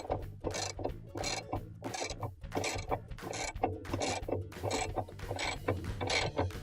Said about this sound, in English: I'm going to use a ratchet with a long extension and a 7/16 socket on it, and we're going to take that bolt out.